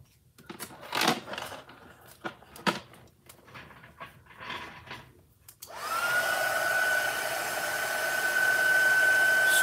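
After a few close handling clicks and taps, a heat gun starts up and runs steadily with a loud whirring blow while drying paint on an art journal page.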